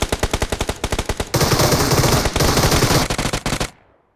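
Rapid automatic fire from a Groza rifle in PUBG Mobile, starting as a short burst and then swelling into a dense, loud, sustained volley of overlapping shots that stops abruptly and leaves a short decaying tail.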